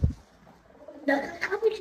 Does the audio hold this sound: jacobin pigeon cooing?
yes